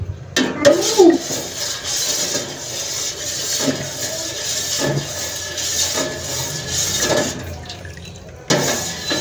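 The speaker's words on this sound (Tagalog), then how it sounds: "Haluin lang natin para hindi mamuo yung ating cornstarch." Water and cornstarch stirred together in a bowl for ice candy, a continuous swishing slosh with occasional spoon knocks against the side, close and fairly loud.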